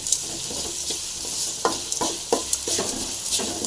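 Onions cook with salt in sizzling oil, a constant close frying hiss overlaid by a series of scraping stirs and spoon knocks against the pan, with no voices.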